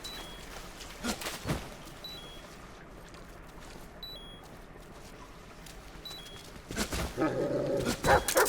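Dogs barking in the Metal Gear Solid Delta stealth game, a few short barks early on, a quiet ambient stretch, then a louder, busier burst of barking and growling near the end.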